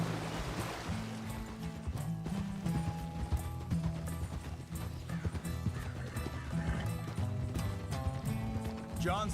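Horse hooves clip-clop steadily in the Red Dead Redemption 2 video game, a continuous trotting rhythm set against a dense, loud game soundscape with music-like tones and a brief whinny near the end.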